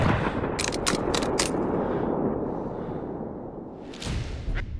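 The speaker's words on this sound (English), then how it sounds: "slowly exhale and pull the trigger" A sniper rifle fires in the Sniper Ghost Warrior 3 video game, with a cluster of sharp, cracking shot transients early on over a dense rumbling game soundscape, and another burst of impacts near the end.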